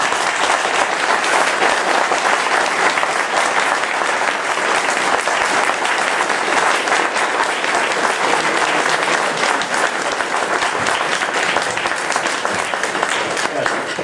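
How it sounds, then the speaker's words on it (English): A crowd at a Michigan 4th Congressional District candidate night claps in a loud, dense, steady burst of applause that runs unbroken throughout. "Let's give a big round of applause."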